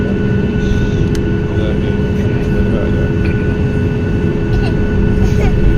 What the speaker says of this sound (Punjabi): ਉਹਦੇ ਆਵਾਜ਼ਾਂ ਆਉਣਗੀਆਂ ਦੋਸਤੋ ਜਿਵੇਂ ਜਹਾਜ਼ ਚੜਦਾ ਉਦੋਂ ਕੀ ਆਵਾਜ਼ ਹੁੰਦੀ ਹੈ